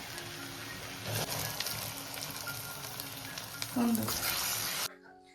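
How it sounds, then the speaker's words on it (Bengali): Mixed vegetables for a vegetable chop fry in a pan with panch phoron, green chili and ginger paste. A soft, continuous sizzle carries a few stirring scrapes, then cuts off abruptly. "ভাজা হচ্ছে যে সবজিটা, এবার এটার মধ্যে একটুখানি নুন দেব।"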